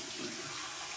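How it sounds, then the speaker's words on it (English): Warm water runs from a bathroom tap for a post-shave rinse, a steady, close hiss of flowing water that lasts about a second with no voices. "here's my warm water rinse"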